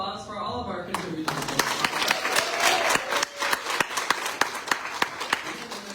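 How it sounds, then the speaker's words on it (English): An audience at a literary journal's issue release reading gives a round of applause for the contributors. Sharp, dense clapping starts after a brief quiet moment and carries on loudly, tapering into scattered individual claps. "Let's give another round of applause for all of our contributors"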